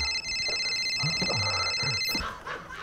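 A telephone rings in a comedy scene, a steady electronic trill running through most of the clip and cutting off near the end, with brief voices and room noise beneath it.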